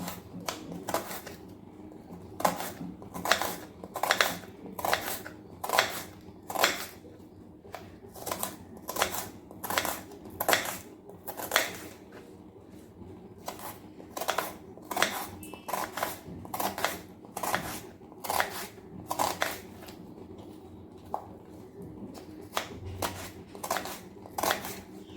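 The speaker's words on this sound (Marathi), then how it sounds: "कांदा आपल्याला असा उभा पातळ चिरून घ्यायचा आहे." A knife slices thin lengthwise strips of onion on a cutting board, making a long run of crisp, steady chops at a brisk, even rhythm, close up with no talk.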